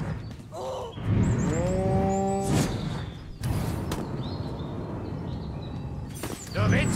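Cows low in the Destroy All Humans! video game, with a drawn-out moo near the start, then several more bellows over game noise, thuds and bird-like calls.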